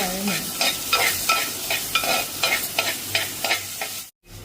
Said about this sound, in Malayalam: ഉപ്പ് ഇട്ടതിന് ശേഷം നന്നായിട്ട് വഴറ്റി എടുക്കുക